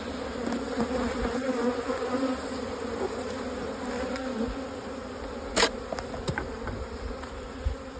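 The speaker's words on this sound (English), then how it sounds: "Got 1, 2, 3, 4, 5, 6 seams of bees up here." Honey bees buzz in a dense, continuous drone over an open hive during frame inspection, close and steady, with a few sharp clicks and knocks of equipment breaking through.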